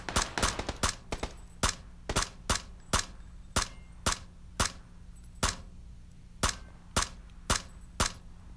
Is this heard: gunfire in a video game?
yes